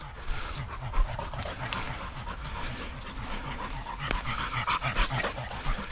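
A young dog pants steadily and rapidly close by, a continuous rhythmic huffing of quick breaths that carries on throughout with no talk over it.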